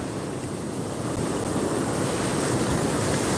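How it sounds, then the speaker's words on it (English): Surf at Pensacola Beach rolls in as a steady broadband wash of waves, with wind buffeting the microphone and a slight swell in loudness toward the end. "Let me show you the water coming up."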